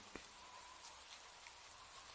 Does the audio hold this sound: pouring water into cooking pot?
no